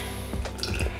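Water poured into flour in a mixing bowl for a batter, giving a few soft wet drips and splashes, close and quiet, with no talking.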